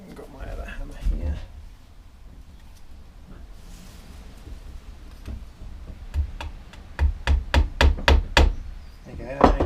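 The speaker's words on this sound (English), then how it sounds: "So now if I tack this in the middle, I don't want to use that hammer" A hammer tacking wood on a three-legged stool jig, a quick run of about eight sharp, close, evenly spaced knocks, with a few scattered earlier taps and someone talking at the start.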